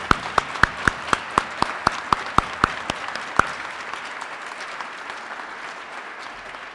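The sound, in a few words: audience applause for the nine finalists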